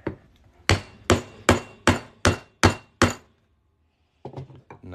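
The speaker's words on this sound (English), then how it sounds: "We're gonna hammer this through here." Sharp hammer blows strike a fine silver Aztec coin during coin-ring making, seven evenly spaced ringing metallic hits close up, followed after a pause by a few lighter taps.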